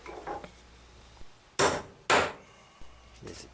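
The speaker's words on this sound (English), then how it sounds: "Then we'll give it a couple taps" A hammer gives a twist fastener a few light taps while a fore deck sail bag is made, sounding as two sharp, close strikes in quick succession with softer knocks before and after.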